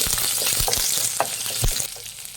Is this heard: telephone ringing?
no